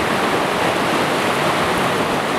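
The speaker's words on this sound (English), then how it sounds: "We're staring down the South St. Vrain Creek." South St. Vrain Creek rushes in a steady, dense roar of churning water, loud and constant from start to finish with no voices.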